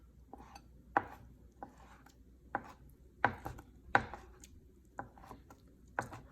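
A sharp kitchen knife chops dumpling filling on a board. About ten crisp, close knocks come at uneven intervals over a faint background, with no talking.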